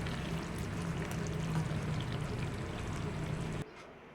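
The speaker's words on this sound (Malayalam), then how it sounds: "ഇനി നമുക്കതിലേക്ക് നമ്മുടെ ബിരിയാണി റൈസ് ഇട്ട് കൊടുക്കാം." Cooked biryani rice tipped into a pot of chicken, giving a steady soft pouring rustle for several seconds before cutting off.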